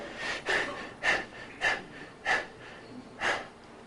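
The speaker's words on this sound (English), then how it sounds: "This breathing is designed to go all the way down, push that belly out." Deep belly breathing exercise during a meditation and breathing lecture: six slow, evenly spaced breathy exhales and inhales, close and moderately loud, with no talking.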